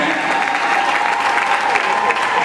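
An audience at a book launch applauds and cheers, a dense, loud, steady wash of clapping from a close crowd throughout, with voices mixed in.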